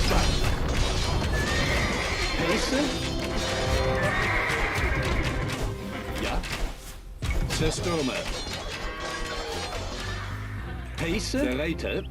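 Horse neighing and whinnying in the Age of Empires II video game, several loud close whinnies with clip-clop hooves and a crash, while someone talks over the game sounds.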